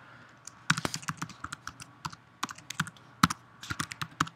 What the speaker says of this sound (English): this time I'm typing